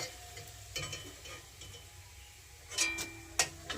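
Papad, thin lentil wafers, frying in hot oil as part of a home lunch, giving a faint steady sizzle with a few sharper crackles and pops near the end, close by, with no talk.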